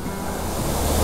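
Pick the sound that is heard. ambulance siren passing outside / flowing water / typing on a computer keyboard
flowing water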